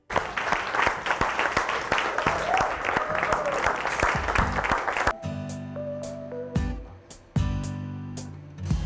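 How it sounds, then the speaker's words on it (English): An audience claps and applauds for a food crew at a Wisconsin cheese tasting event, a dense, steady wash of clapping lasting about five seconds before breaking off, after which music plays. "Can I get a round of applause for Patrick and the Deliciouser crew?"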